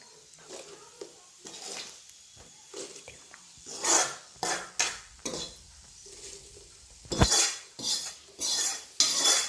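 A spoon stirs Kolhapuri bhadang mixture in a metal vessel, producing irregular clinks and scrapes in bursts, fairly close, with a few quiet voices in the background.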